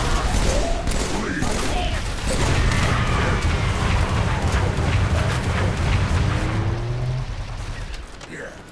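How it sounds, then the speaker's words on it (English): Rapid bursts of battle rifle fire in a Covenant-themed shooter game, dense repeated shots with booming impacts that run nearly continuously before tapering off near the end. "Battle rifle does fire faster from when you last saw it"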